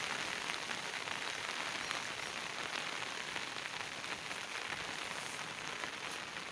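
Steady, dense rain patters continuously on surfaces in a garden, a broad hiss with scattered drip taps, no voices.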